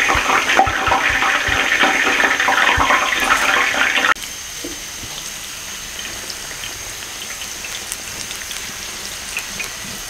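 Katlama dough deep frying in oil, Lahore street-food style, gives a loud, dense, continuous sizzle for about four seconds, then a softer, steady bubbling hiss.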